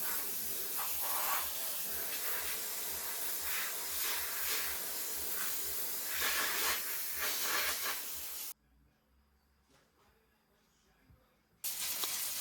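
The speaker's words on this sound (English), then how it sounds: "So steam the top surface and then do the underside as well," A steam cleaner hisses steadily as it steams a toilet seat, top surface and underside, in a continuous loud jet that cuts off abruptly for about three seconds before resuming.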